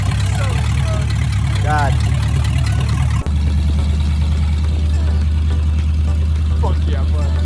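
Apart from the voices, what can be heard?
project car engine running choppily on test drive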